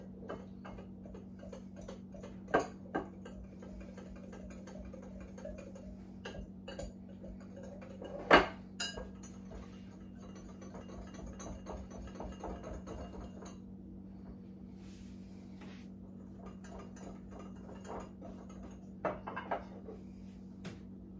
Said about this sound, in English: Yep, that's all whisked together.